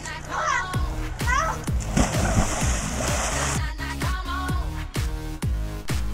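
Kids splash into a pool doing reverse cannonballs, several loud splashes landing in quick succession amid excited children's shouts and chatter close by.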